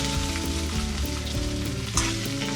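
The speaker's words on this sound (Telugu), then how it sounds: "కొంచెం వేగిపోతే చాలన్నమాట." Sweet corn sizzles steadily in hot oil in a pan for a quick snack, a close, continuous frying hiss with no voice.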